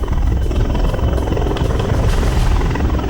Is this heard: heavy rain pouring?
no